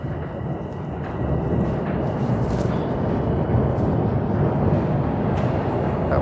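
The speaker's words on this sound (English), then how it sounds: "Nope, that was a northbound Line 1 train." A northbound Line 1 Toronto subway train in a station, a broad low rumble that rises early and holds steady at close range, with faint high squeals above it.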